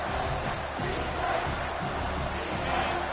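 A home crowd at a college football game between the Canes and Oregon roars steadily and loudly on third down, a dense, continuous wash of cheering and shouts from a large stadium, without distinct speech.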